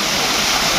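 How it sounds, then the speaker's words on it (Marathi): A waterfall roars in a loud, continuous broadband rush, heard up close with no break. "तुम्ही बघू शकता ओमकार गेला आहे धबधब्याच्या खाली भिजायला."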